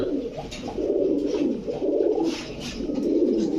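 Pigeons coo in soft, repeated low warbles, close by and steady, with no talking.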